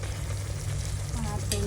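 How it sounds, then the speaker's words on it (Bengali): Spinach frying in a pan with pumpkin and shrimp, giving a steady close hiss and sizzle with faint stirring scrapes, a low hum running underneath throughout. "পালং শাক রান্না করছি মিষ্টি কুমড়া চিংড়ি দিয়ে"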